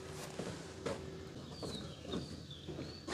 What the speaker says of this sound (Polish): ale odzywają się już pierwsze ptaki